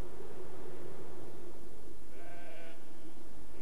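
A sheep bleats once partway through, a short harmonic call rising over a steady bed of outdoor wind noise and low rumble on a farm.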